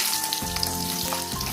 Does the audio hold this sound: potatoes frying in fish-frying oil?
yes